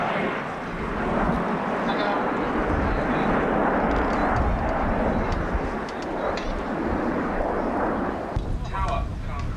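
Spanish Air Force aerobatic team CASA C-101 Aviojet jets roar in a broad, loud rush at an airshow at RAF Scampton, the engine noise swelling and easing under continuous talk.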